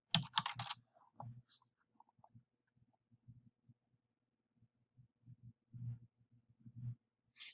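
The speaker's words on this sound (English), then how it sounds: "So let me type in WebMD so you can see exactly what I mean by that." Typing on a computer keyboard, a sparse series of soft key taps and clicks in small clusters, close and quiet, with a brief louder clatter at the start.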